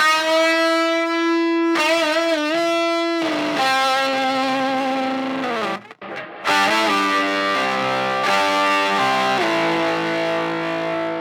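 Distorted electric lead guitar with its reverb plugin bypassed plays dry, sustained bent notes and short phrases, loud and close, with a brief gap near the middle and no voices.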